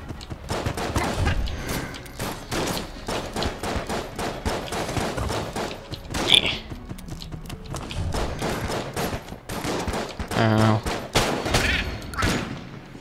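Video game gunfire from Enter the Gungeon, a dense, continuous stream of rapid shots and bullet impacts with small bursts and effects layered over a steady backdrop.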